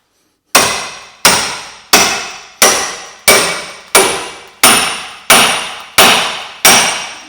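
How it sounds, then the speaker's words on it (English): Hammer whacks knocking a suspension hub part on a Vauxhall Corsa into place, ten loud sharp metallic strikes at a steady even rhythm, each ringing briefly before the next, close up. "Then once it's into place, you give it a couple of big whacks."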